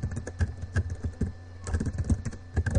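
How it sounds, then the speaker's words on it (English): Someone types quickly on a computer keyboard in a quiet room, a close, rapid patter of key clicks with a short pause midway. "Now I'll type something"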